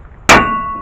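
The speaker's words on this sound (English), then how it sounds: "just hit it right here on the steering knuckle, and this should pop up" Hammer blow on the steering knuckle of a 2001-2006 Cadillac Escalade to pop the tie rod loose: a single loud metallic clang with a sustained ringing tone that slowly fades.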